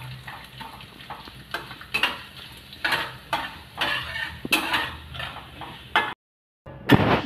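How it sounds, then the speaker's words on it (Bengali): Raw mung dal frying with spices in a pan, a soft sizzle broken by repeated scraping stirs at a steady rhythm, with a brief silent gap near the end. "সিমে দিয়ে কাঁচা মুগ ডালটাকে একটু লাল করে ভেজে নিতে হবে।"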